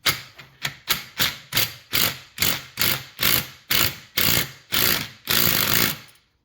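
A Ryobi 3/8 inch impact wrench works to remove a part from a Kawasaki FR730V engine during teardown. It makes a loud, close run of rapid hammering bursts that speed up into a continuous rattle before stopping.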